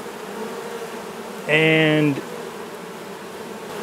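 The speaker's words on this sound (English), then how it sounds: "we're just gonna let these bees acclimate" A close, loud honeybee buzz with a steady harmonic drone swells for about half a second, then fades into low background noise; a brief word is spoken. The bees cluster on a basketball hoop pole outdoors.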